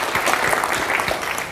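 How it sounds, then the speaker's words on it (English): Audience applause at a transportation industry AGM session, a brief, dense burst of many hands clapping, steady and fairly loud for under two seconds with no speech over it. "Expecting a big round of applause for T-Lane."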